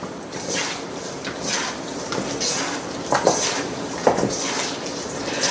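Chicken wings and legs tossed by hand in a cilantro marinade, giving soft wet squishing and shuffling with a few sharper knocks against the bowl, close and steady throughout.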